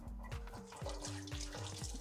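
Room-temperature tap water runs into a sink onto a warm carbon steel pan, a steady faint splashing stream with soft gurgles and a faint steamy hiss throughout.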